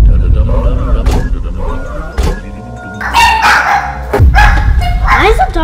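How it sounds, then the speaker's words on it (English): Dogs bark repeatedly inside a house during a power outage, a series of sharp, loud yips and woofs with short gaps, mixed with people talking. "Why is the dogs barking?"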